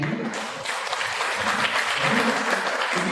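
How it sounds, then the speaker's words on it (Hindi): Applause from a packed church congregation, a dense burst of many hands clapping together, loud and close, holding steady throughout with faint voices underneath. "जोर ताली बजाएंगे"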